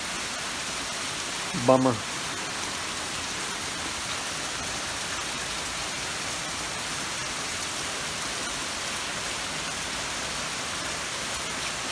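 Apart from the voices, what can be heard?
rain falling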